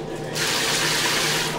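A tap runs steadily in an apartment building, a loud, close, continuous gush of water that starts abruptly after a brief quieter moment and keeps flowing strongly.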